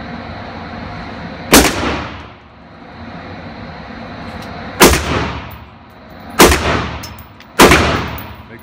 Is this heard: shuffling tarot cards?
no